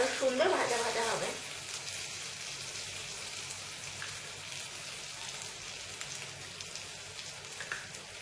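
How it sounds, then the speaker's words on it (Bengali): Aubergine frying in mustard oil, a brief louder burst of sizzle at the start settling into a steady, soft crackle and hiss. "আমি একটু সর্ষের তেল দিয়ে দেবো সাইড দিয়ে, তাহলে আরো সুন্দর ভাজা ভাজা হবে।"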